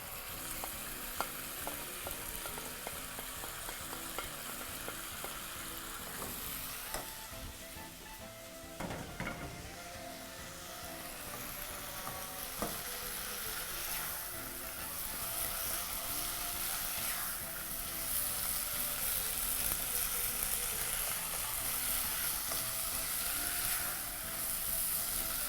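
Beef casserole ingredients sizzle steadily in a pot while being stirred, with scraping spoon strokes over a continuous close frying hiss; no talking.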